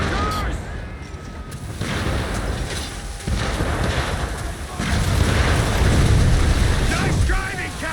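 A ship's gun blasting mines at sea in Assassin's Creed III Remastered: loud booming blasts rolling into heavy rumble, mixed with rushing wind and crashing waves, swelling stronger toward the end.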